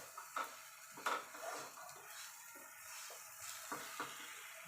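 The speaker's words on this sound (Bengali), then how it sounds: "দেখবেন নাড়তে নাড়তে চিনিটা গলে যাবে" Sugar is stirred into a sabudana laddu mixture in a pan, with soft scraping and occasional clinks of the spoon over a faint, low sizzle.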